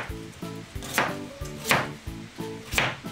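A knife chops thick half-moon slices of daikon radish on a cutting board, each cut a sharp, close knock with a faint crisp crunch, falling in a steady, slightly uneven rhythm with brief pauses.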